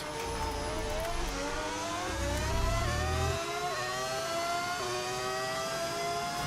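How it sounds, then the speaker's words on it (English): A V10 Formula 1 car engine screams in the racing game F1 25, a high, sustained wail rising and shifting through gears over a low rumble, loud and continuous with no voice. "You just hear these screaming engines. Although this is currently a V10 that you're hearing."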